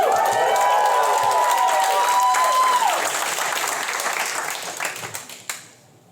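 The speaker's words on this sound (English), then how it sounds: "You clap like that's a good thing." A comedy club crowd at the Helium Comedy Club in Portland claps and cheers, a full burst of applause with a voice rising over it early on, then thinning and fading out over several seconds.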